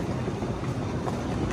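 A Copenhagen metro M3 train running, its steady broadband rumble and rail noise filling the space close by, continuous with no voices over it.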